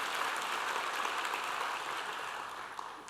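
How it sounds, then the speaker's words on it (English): Sustained applause from a large audience at the closing plenary of the Global Nature Positive Summit in a convention centre, steady and dense throughout before easing slightly near the end. "Give them a clap."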